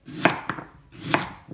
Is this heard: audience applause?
no